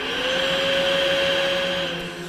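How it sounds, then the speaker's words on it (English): A household vacuum cleaner runs steadily and close by, a constant motor whine over a broad rushing roar that fades slightly at the end, with no voices. "She pulled out the vacuum cleaner."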